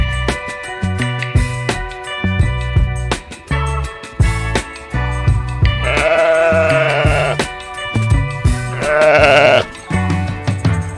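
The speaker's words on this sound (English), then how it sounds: "Sheep." Sheep bleating in a children's farm animal sound lesson, two drawn-out wavering bleats rising loud over a steady bouncy music bed.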